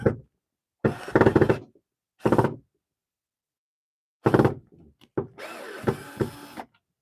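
A power drill drives cheap screws in several separate bursts, loud and close, each whir starting and stopping with short pauses between, the last burst longer and rougher.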